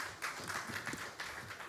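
Applause from the audience at the NGX Group T+1 settlement cycle transition ceremony, a fairly faint but steady patter of many hands clapping, with no voices over it.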